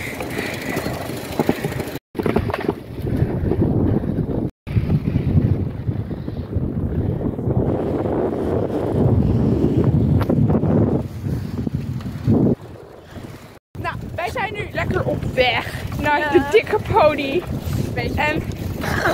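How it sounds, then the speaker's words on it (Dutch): Strong gusty wind buffets the microphone while riding a bicycle outdoors, a loud rumbling roar with brief dropouts, and someone talks over it near the end. "het waait heel hard"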